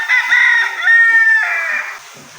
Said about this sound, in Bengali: মোরগের ডাকটা তো ভালোই লাগলো মোরগটাও তো দেখতে অনেক সুন্দর দেখা যাইতেছে